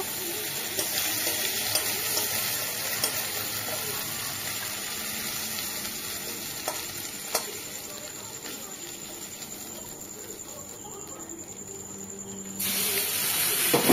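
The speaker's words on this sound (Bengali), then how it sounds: "তারপরে দেখো চিংড়ির যে মাথাটা ছিল ওটাকেও কিন্তু আমি আবার ভেজে নিচ্ছি" Prawn heads frying in a pan, giving a steady hissing sizzle close by that eases in the middle and swells louder near the end.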